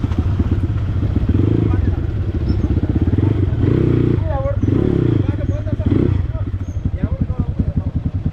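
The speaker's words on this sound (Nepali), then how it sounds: "गाह्रो भएको छ हौ बाइक कुदाउनु आफूमा" A dirt bike engine labours uphill on a rough trail near Lalitpur, its throttle rising and falling with rattles and thuds, loud and close, while voices talk over it.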